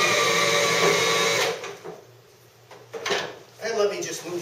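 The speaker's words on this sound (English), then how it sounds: "I'm just going to turn on the brushes and drive the machine off the tray." A HOST floor cleaning machine starts its brushes and drives off a tray, giving a steady motor whir and scrubbing that drops away midway, then returns with clunks; someone talks over it at the start.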